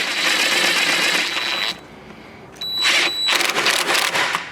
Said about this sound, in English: I'm going to use my electric impact gun.